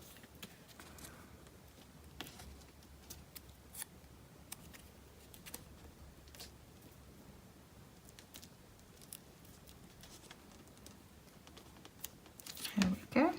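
Scissors snip and trim paper for a homemade Santa Christmas ornament bauble. Quiet, crisp cuts come in scattered bursts over a soft background, and a louder rustle of handling builds near the end.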